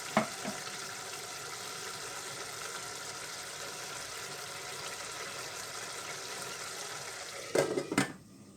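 A pastel filling sauce cooks in a pan with a steady, soft sizzle and simmer throughout, ending in a few brief clinks of a utensil against the pan.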